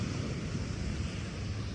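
Atlantic Ocean surf washes onto a Florida beach as a sea breeze buffets the microphone, a loud, continuous roar heard up close with no voices.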